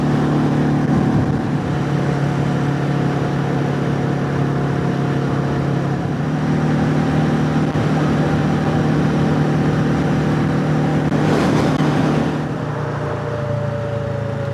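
A Royal Enfield Classic 350 motorcycle cruises at about 60 touring speed on a Scottish road trip, its engine a steady, loud drone with constant wind rush that eases slightly near the end.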